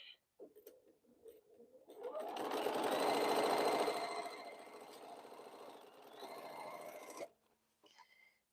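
Sewing machine stitching quilt borders: a steady, loud mechanical whirring that runs for about five seconds, easing slightly midway, with brief quieter starts before and after and no talking.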